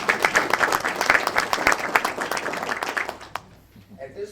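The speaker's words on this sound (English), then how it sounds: "So everybody give her a round of applause." Applause from the audience at a town council meeting welcoming a new branch manager, a dense burst of clapping that thins out and fades toward the end.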